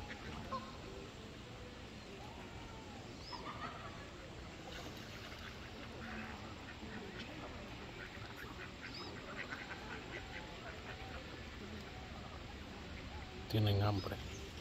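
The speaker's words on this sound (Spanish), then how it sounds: "Son los patos los gansos." Ducks and geese quack and honk faintly by a river near a bridge, scattered calls under a steady outdoor hum with a brief louder knock near the end.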